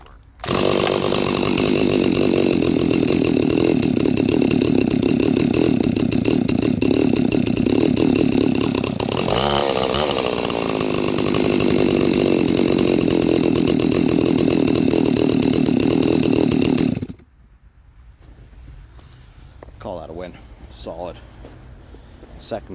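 A Stihl 026 chainsaw fires on a pull with full choke in sub-zero cold, running loud and steady close by for about seventeen seconds before cutting off abruptly, with a voice speaking over the quieter tail.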